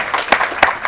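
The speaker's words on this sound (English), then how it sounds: "give me a round of applause" Audience at a university innovation awards ceremony breaks into applause, a brief burst of many hands clapping with a couple of sharper claps standing out.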